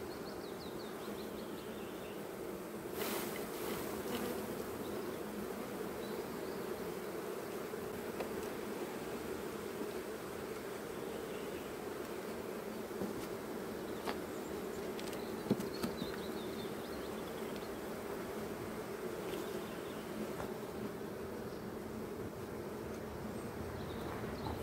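Honey bees buzz around an open beehive in May during a nectar flow, a dense, steady drone of many wings close to the microphone, with occasional louder individual bees passing by.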